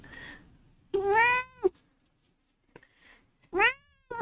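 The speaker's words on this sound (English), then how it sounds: "We got a noisy cat." A pet cat meows loudly and close by, giving two long drawn-out meows with a shorter one between them, separated by quiet gaps and with no one talking.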